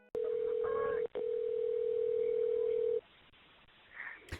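Steady telephone tone at the opening of a recorded 911 emergency call, sounding loud and continuous, briefly broken once, then stopping, followed by a quiet line and faint noise near the end.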